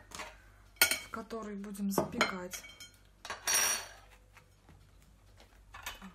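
Sliced eggplant fans are set into a baking dish with clattering and clinking of cookware and utensils, several close knocks under a woman's quiet speech.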